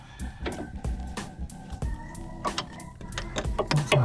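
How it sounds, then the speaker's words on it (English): A spanner works a bolt loose on a Ford Focus ST225 driveshaft, with a steady run of close metallic clicks and knocks and some low rumble underneath, with no talk. "I'm now going to use the spanner to get it off the rest of the way."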